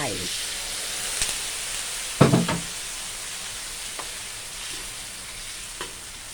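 Pork with salt stir-frying in a pan as rice-washing water goes in: a steady hiss of sizzling, then a sudden louder splash and burst of bubbling, with faint scrapes of stirring.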